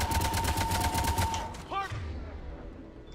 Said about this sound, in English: They're firing on the Turian!